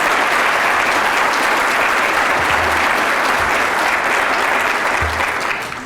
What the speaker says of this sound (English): let's give our board a round of applause for their work